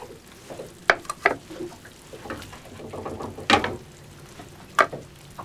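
Egg mix cooking in a pan aboard a boat, with scraping and stirring strokes over a steady sizzle and a few sharp clatters, fairly close and with no talking.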